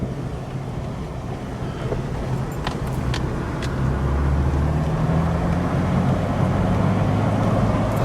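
A car engine hums steadily through a double-declutch downshift from third gear while cornering, its low drone rising slightly as revs change, with steady wind and road noise throughout.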